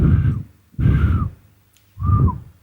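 Three long, breathy exhalations in a slow rhythm, each carrying a faint whistling tone, close and alone.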